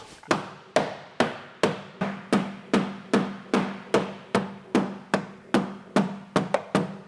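Steady, forceful hammer blows ringing on a steel car tunnel panel, about two per second, close and loud, each strike followed by a short metallic ring.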